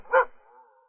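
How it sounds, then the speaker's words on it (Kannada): A dog gives a single short, fairly close bark that trails into a faint whining tail. "ಹಿಂದಿಲ್ ಬೊಗಳ್ತಾ ಇದೆ."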